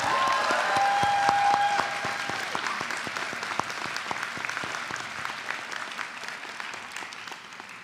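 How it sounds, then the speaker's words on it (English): A crowd at a 2022 college commencement ceremony applauds in a dense, even wash that slowly fades. A brief high whistle rises above it near the start. "let's give them a round of applause"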